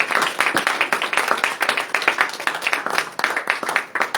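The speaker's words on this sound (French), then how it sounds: "Est-ce qu'on peut acclamer pour cela?" A church congregation applauds together in a steady, dense wave of clapping that fills the room and carries on without a break, with no one talking over it.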